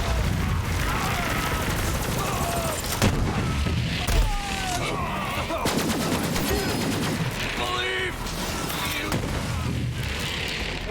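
Borderlands 3 gunfire comes in dense, rapid bursts of automatic shots and booms through a chaotic firefight, with players shouting and talking over the shooting throughout.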